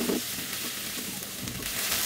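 Thick-cut chopped garlic stir-fried in a pan over high heat for chilli garlic noodles, with a steady close sizzle and light stirring scrapes throughout.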